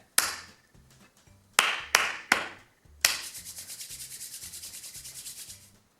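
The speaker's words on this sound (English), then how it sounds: "Let's clap one more time." Hand clapping in a 4/4 rhythm, with a few sharp single claps followed by a fast, even run of claps, close and loud with no talking.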